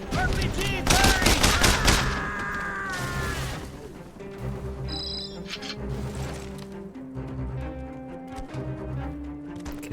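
Rapid gunfire in the video game Mercenaries 2: World in Flames, with dense bursts of automatic fire and sharp impacts loud up front, then continuing shots and crashes over a droning background.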